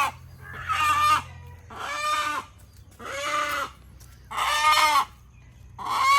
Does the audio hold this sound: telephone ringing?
no